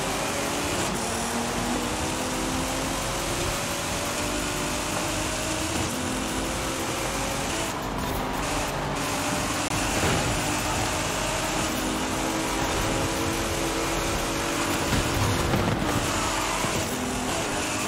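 A Nissan GT-R engine in Forza Horizon 5 roars steadily at high revs during a race, a continuous loud drone with shifting pitch and no break.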